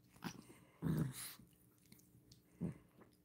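Two dogs, including Ozzy, trade soft low grumbles and whimpery vocalizations with breathy snuffles, a few short bursts separated by quiet pauses, close and fairly faint.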